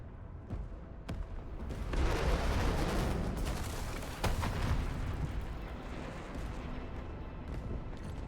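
UWST artillery strike in Arknights Endfield, a deep rumbling barrage of booming blasts that swells after a couple of sharp cracks, holds as a dense roaring wash, then jolts again with a fresh impact before settling into a lingering low rumble.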